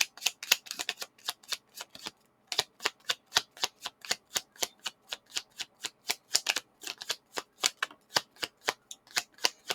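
Tarot cards being shuffled up close, a long run of quick, crisp riffling bursts in a fast even rhythm, with one brief pause before the shuffling resumes.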